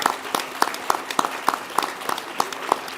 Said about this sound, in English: Could we have a round of applause for our graduates one more time